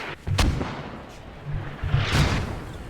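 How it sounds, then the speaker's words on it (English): Explosions and artillery fire in the military shooter game Squad, heavy booms and rumbling blasts in two main bursts, loud with a lingering low roar between them. "Explosions now going in."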